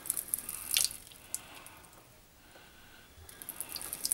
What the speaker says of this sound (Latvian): Pagriešam ūdeni. Es tev tekošu ūdeni vienkārši.